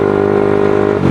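Suzuki GSX-S motorcycle engine with a noisy exhaust, revving loud and close in a steady sustained drone that swells briefly near the end, with no talk.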